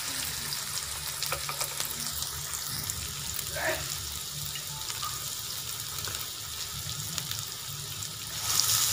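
Chopped onions fry in hot ghee for a restaurant-style chicken dal moong, giving a steady, fairly quiet sizzle and hiss that runs unbroken through the whole stretch.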